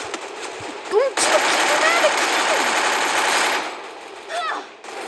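Rapid automatic gunfire in the mobile shooter Free Fire, a sustained loud burst lasting a couple of seconds, with brief voiced exclamations before and after it.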